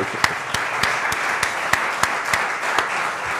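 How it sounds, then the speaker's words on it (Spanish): An audience applauds a speaker named Fernando after a talk and question session, a steady wash of clapping with sharper individual claps standing out at a regular beat through the whole stretch. "le vamos a dar un aplauso enorme a Fernando"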